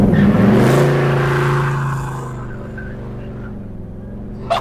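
Muscle car fitted with a QA1 upgrade pulling hard in second gear, a loud close engine roar that climbs in pitch, then fades away as the car draws off, ending in a brief sharp click.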